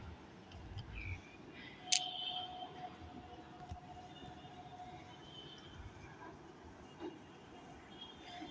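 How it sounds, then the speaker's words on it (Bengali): A train passes at a distance, heard from a fifth-floor rooftop as a faint, steady rolling rumble under quiet ambient noise, with a brief sharp click near the start. "এই দেখো ট্রেন যাচ্ছে, দেখতে পাচ্ছ?"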